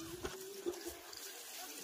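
Fallen mangoes are washed in water, a continuous close splashing and trickling like running tap water, with a couple of brief knocks and a steady faint hum underneath.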